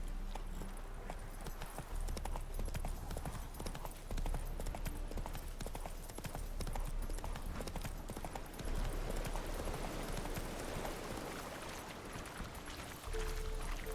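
Roach the horse gallops in The Witcher 3, a dense, steady drum of hoofbeats rolling continuously at moderate loudness over a busy game soundscape.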